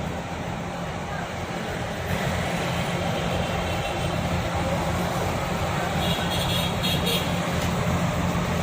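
The ALS 290 Surabaya–Medan bus pulls out of a parking lot in Palembang, a low, continuous diesel rumble with steady road and traffic noise around it and no clear speech.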